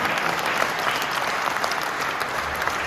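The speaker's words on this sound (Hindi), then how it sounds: "उन दोनों माओं के लिए जोरदार ताली बजनी है" Audience applause at a London mushaira, a poetry recital event, honoring two mothers: dense, steady clapping from a large crowd, loud and continuous throughout with no voices standing out.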